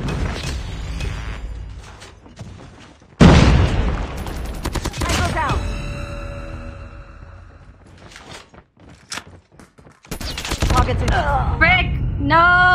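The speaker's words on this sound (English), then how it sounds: "Friendly predator missile inbound." Call of Duty multiplayer match with a predator missile strike: a sudden loud blast and rumbling explosion mid-clip, surrounded by rapid gunfire bursts and mechanical clatter, with a second heavy impact near the end; game announcer voice lines occur.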